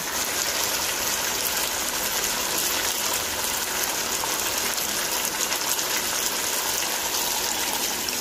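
Hot water pours steadily into a pot of braised chicken curry, a continuous even splashing gush that holds the same level the whole time, in a home village kitchen.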